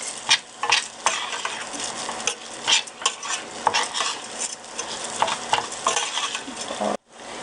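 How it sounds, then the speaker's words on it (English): Rice being stirred in hot oil for a mushroom risotto, a bright sizzle with frequent spoon scrapes and clinks against the pot, close, ending abruptly. "stir this until all the rice is fully coated in the oil"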